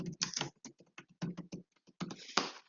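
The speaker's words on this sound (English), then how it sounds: "we want to again type in the title for that, which would be passenger address" Fingers type on a computer keyboard in a quiet room, producing quick irregular bursts of soft, close clicks with short pauses between runs of keys.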